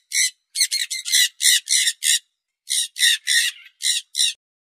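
A parrot squawks harshly in a series of about a dozen loud, separate calls, grouped in two bursts with a short pause between them, with no talk over them.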